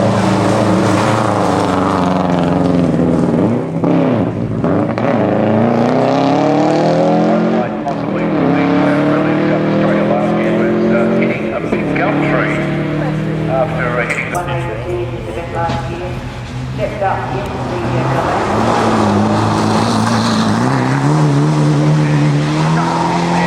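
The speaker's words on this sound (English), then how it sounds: "Sounds like a Subaru." A Subaru rally car at the 2006 Rally of South Australia passes at speed, its loud engine note rising and falling in repeated revving sweeps under a constant roar, close and unbroken throughout.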